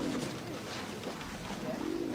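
A pigeon coos softly in a low, steady rhythm over a constant background hiss, with no talking.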